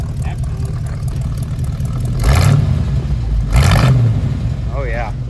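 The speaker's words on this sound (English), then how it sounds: "Can I give it some red so we can hear it?" A 1972 Chevrolet C10 4x4 pickup truck engine idles, then is revved twice in quick, rising bursts that fall back to a rumbling idle, recorded close by outdoors.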